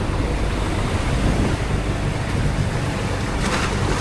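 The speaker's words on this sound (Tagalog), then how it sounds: "5 to 6 feet ang alon ngayon." Rough Pacific Ocean waves during the southwest monsoon surge and roar around a fishing boat far out at sea, a constant loud wash mixed with heavy wind buffeting the microphone.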